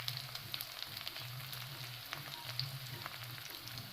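Dried chillies and a bay leaf frying in hot oil in a pan for a lobia masala curry, giving a steady soft sizzle with faint crackles throughout, with no voices.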